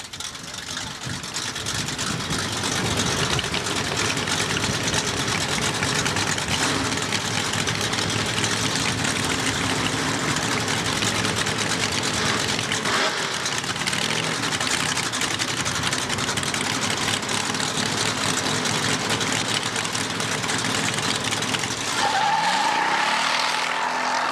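Drag race cars idle and run hot laps at Thunder Mountain drag strip, a continuous loud roar of engines and tire noise filling the whole stretch, shifting near the end as another car moves off.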